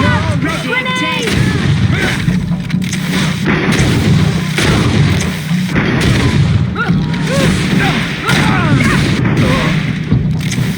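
A grenade goes off amid GreedFall combat, one of several loud, deep booms and blasts that repeat through a dense, continuous battle soundscape, with voices mixed in.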